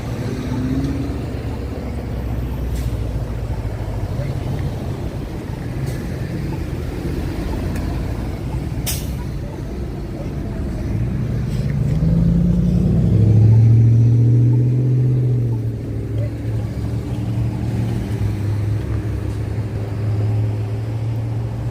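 Road traffic near Mile Square Park, with cars and trucks driving past: a steady, loud low rumble that swells for a few seconds as a heavier vehicle passes, then settles back, with no talking.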